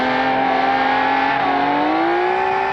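A race car engine holds a loud, steady high-pitched drone in a racing game at Sepang, its pitch climbing smoothly as the throttle opens, continuous and close with no pauses.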